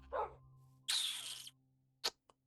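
A dog in the Minecraft video game barks: a short yap, a longer harsh bark, then a quick yip with a tiny click, near and fairly loud over a steady low hum.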